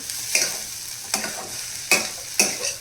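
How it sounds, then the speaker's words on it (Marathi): Egg bhurji with coriander sizzles in a pan as a spatula stirs it in four distinct scraping strokes over a continuous close frying hiss, with no speech. "कोथिंबीर टाकल्यानंतर पुन्हा आपण एकदा छान मिक्स करून घ्यायची"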